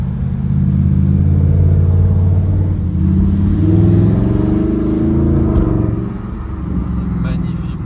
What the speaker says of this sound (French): Grâce à l'échappement Acrapovic, il n'y a pas besoin de rouler vite hein, pour se faire plaisir et entendre la sonorité du V8.